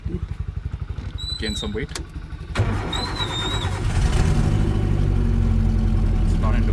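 A vintage Mercedes S123 under restoration cranks with a rhythmic starter churn, catches, then settles into a running engine that rises into a louder rev, with a person talking briefly over it.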